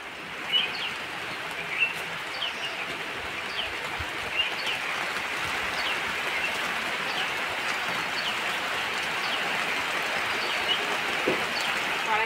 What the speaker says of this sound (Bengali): এই যে বৃষ্টি চলে এলো।